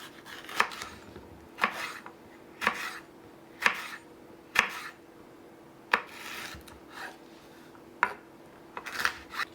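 A knife chops a leftover bell pepper on a cutting board in about nine crisp, evenly spaced strokes, close and clear, with quiet pauses between and no talking.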